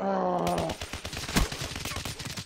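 MP40 submachine gun fire in the Black Ops 3 video game, a rapid burst of close, sharp shots following a brief voice.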